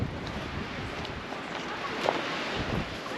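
Wind gusts across deep snow, buffeting the microphone with a steady broadband rush that swells slightly midway, with people talking nearby.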